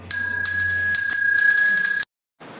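A cancer survivor rings a bell at a hospital in Táchira, a rapid run of bright metallic strikes ringing for about two seconds, then stopping abruptly.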